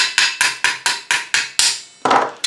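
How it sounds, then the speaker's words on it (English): A hammer taps a rivet held in a vise, striking about ten sharp, ringing metallic blows in a steady rhythm with one brief pause, close and loud with no voices. "you just put it in the vise and you tap it down,"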